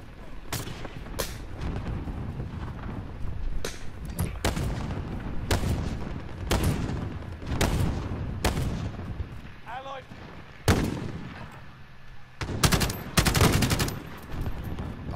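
Full-auto AUG rifle fire in Call of Duty MW, sharp repeated bursts of gunshots spaced across the stretch, loud and close with booming echoes and occasional explosions between them.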